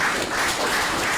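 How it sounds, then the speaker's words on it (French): Crowd applause at a political gathering in Côte d'Ivoire, a dense, steady wash of many hands clapping at close range with no break, filling the whole short stretch. "il faut l'applaudir"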